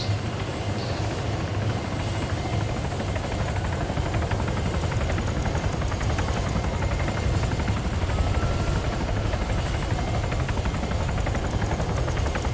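A helicopter in the Arma 3 Altis Life game flies with a steady, loud rotor drone and engine hum that stays constant and close throughout, with no talking.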